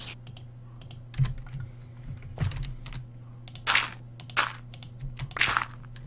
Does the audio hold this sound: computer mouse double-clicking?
yes